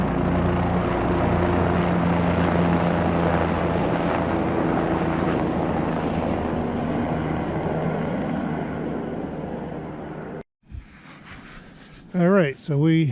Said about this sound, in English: Then we got a chopper going overhead.